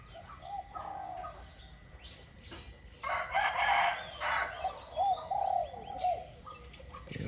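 A trained decoy dove in a mountain setting coos in repeated rhythmic phrases, close and clear, with other birds calling in the background.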